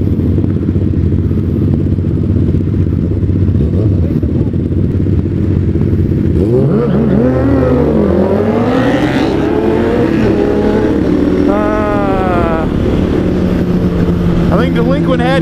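600cc sport motorcycles street racing, engines revving hard and rising in pitch as they pull away close by, with talk and crowd voices over the continuous roar.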